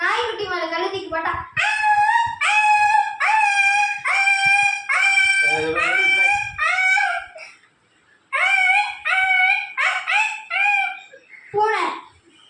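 An eighth-grade government schoolgirl mimics a dog howling with a run of drawn-out, wavering tonal howls, loud and close, broken by short pauses and a final rising cry.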